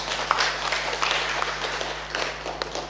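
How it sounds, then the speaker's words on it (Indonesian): A church congregation at a Sunday service claps together in a brief, steady burst of applause, moderately near, without talk. "Tepuk tangan buat Tuhan."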